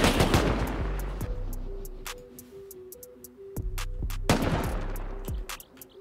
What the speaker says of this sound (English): sounds like the turret's got one guy